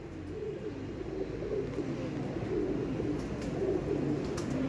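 A pair of white Lambadi Andhra pigeons coos in continuous, rolling low phrases, a steady throaty rumble carrying on alone for several seconds.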